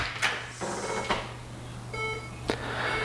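House door opening during a staged break-in, with a few soft knocks and clunks of the door and handle, then a faint electronic chime from an alarm base station indoors, all fairly quiet.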